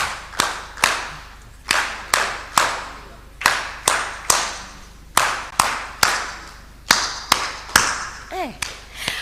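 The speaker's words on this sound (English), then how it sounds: "Have we clapped for the facilitators?" An audience at an East African civil society summit claps for conference facilitators, loud sharp hand claps landing in an uneven stream of single and clustered strikes, each ringing briefly in the hall, with a short vocal sound near the end.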